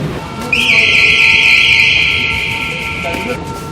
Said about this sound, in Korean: 방금 소리는 일반인이 떨어지는 사고를 예방하기 위해서 경보음이에요.